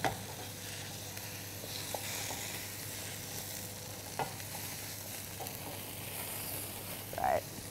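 Vegetables cook down in a pan with a soft, steady sizzle, punctuated by occasional clinks and scrapes of stirring, heard faintly and close.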